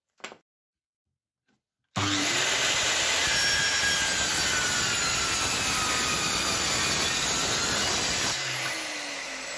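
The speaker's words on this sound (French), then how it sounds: "On va découper cette partie-là." Wood being cut for a toy truck: after a short quiet start, a loud continuous, steady machine-sawing roar runs almost unbroken until near the end, close and with no talk.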